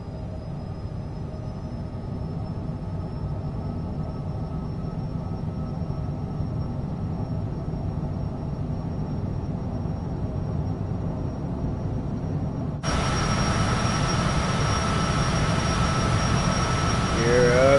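Jet airliner departing a runway in Microsoft Flight Simulator 2024, with a steady, loud engine roar throughout that jumps in brightness and intensity near the end as thrust builds.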